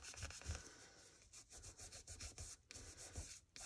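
Dried Fabri-Tac craft glue is rubbed off a junk journal, a faint, close, continuous scratchy rubbing with short strokes and brief pauses, no voices.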